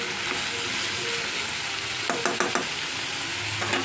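Banana flower and soaked chickpeas fry in a pan, a steady loud sizzle running throughout, with a few clattering scrapes of stirring near the middle and end.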